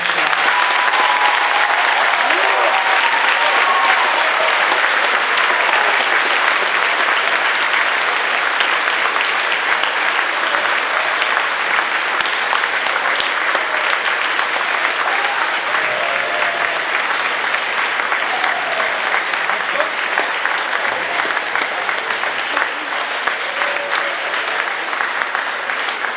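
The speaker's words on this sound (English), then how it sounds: "Let's do a big round of applause." A large crowd at a career signing day ceremony gives loud, continuous applause, dense and unbroken for the whole stretch, with faint cheering mixed in.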